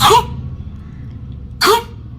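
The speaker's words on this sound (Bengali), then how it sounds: "খুব কাশি হয়েছে" A baby gives two short, sharp coughs about a second and a half apart, close and fairly loud, with quiet background between them.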